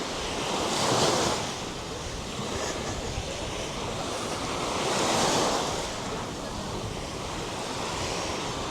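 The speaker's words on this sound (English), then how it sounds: "sea looks lovely." Sea waves on Mackenzie Beach in Larnaca roll in and break in two slow swells, with steady surf wash and wind buffeting the microphone throughout.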